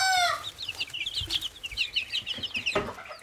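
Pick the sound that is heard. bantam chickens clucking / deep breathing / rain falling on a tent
bantam chickens clucking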